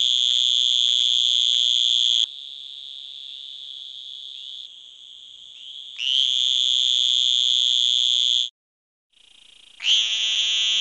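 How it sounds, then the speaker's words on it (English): Western green toad in the Sonoran Desert producing a long, shrill, buzzy high-pitched trill, loud and continuous for stretches with brief breaks and shifts in pitch, heard alone. "Western green toad."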